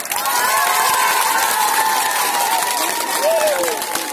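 A crowd at a public rally for a drug-free India campaign, held by Odisha women's groups and the Biju Yuva Vahini, claps in a loud, dense, sustained burst of applause while an amplified voice carries over it.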